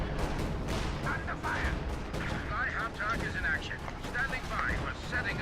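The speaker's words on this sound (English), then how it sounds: "that's a lot of explosions going on" Artillery shells burst again and again in Company of Heroes 2, a dense run of booming blasts and gunfire under almost constant excited talking.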